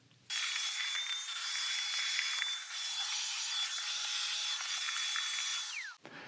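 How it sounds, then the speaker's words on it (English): A vacuum cleaner sucking dust from beneath a refrigerator starts abruptly, whines steadily with a high motor tone for about six seconds, then winds down and cuts off. "what I'm going to do is vacuum out everything under here"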